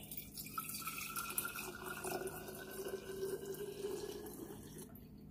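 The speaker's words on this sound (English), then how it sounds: "Then we'll pour the extra coffee into a pre-sanitized jar here." Leftover coffee is poured from a container into a pre-sanitized jar, a soft continuous trickling stream of liquid heard alone at low volume for several seconds.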